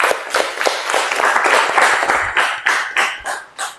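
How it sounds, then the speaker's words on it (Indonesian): Applause for a student's presentation in a classroom, a brief burst of clapping from a small group, dense at first and thinning into a few scattered claps at the end. "Beri aplaus."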